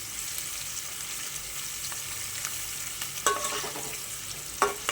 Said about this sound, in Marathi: आपल्याला छान तेलामध्ये हा कांदा तळून घ्यायचा आहे